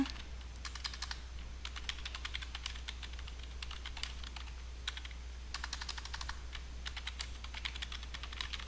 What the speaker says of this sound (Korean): 그리고 엔터키를 쳐 주시면 돼요.